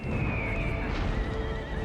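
A horse whinnies amid a dense, rumbling battle din in the video game Empire: Total War, the neigh rising over steady low noise.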